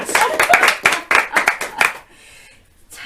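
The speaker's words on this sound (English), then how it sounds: "Big hand clap, everybody. Listen to my studio audience." Handful of people clapping in a local live TV studio, a few loud, uneven bursts of claps with voices mixed in, stopping abruptly into near quiet.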